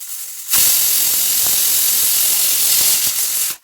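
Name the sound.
pressure cooker whistle while cooking rice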